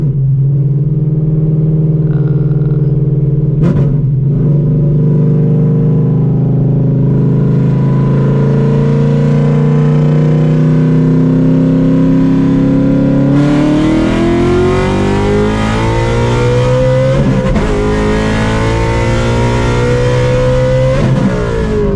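An 800hp Shelby GT350 pulls hard, the engine roaring loud and close from the cabin as its pitch climbs steadily, then rises again through the next gear.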